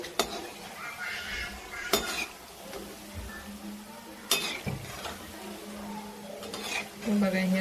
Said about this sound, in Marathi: अशा छान तळून घ्यायच्या शंकरपाळ्या.